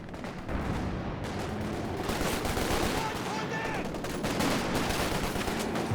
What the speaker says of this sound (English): Nice machine gun.